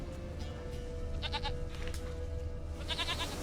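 A goat in The Witcher 3 game bleats twice, short wavering calls over a steady low ambient hum.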